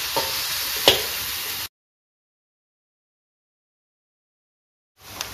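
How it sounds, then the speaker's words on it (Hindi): Onions sizzle and fry on a tawa for tawa pulao, a steady close hiss with one sharp stirring knock, then cut off abruptly into silence before a brief return of sizzling at the end. "देखिए हमारे ऑनियन फ्राई हो गए हैं"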